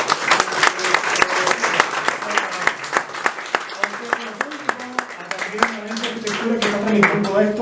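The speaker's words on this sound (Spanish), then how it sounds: "Obviamente a nuestros 4 invitados, a Andrea, si les pido un gran aplauso." Loud audience applause at an architecture fanzine launch, with dense clapping throughout, a voice speaking over it in the second half.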